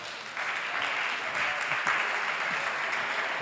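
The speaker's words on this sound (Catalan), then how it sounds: "Un aplaudiment." Sustained audience applause at a talk, a dense steady wash of clapping that starts abruptly and continues evenly throughout.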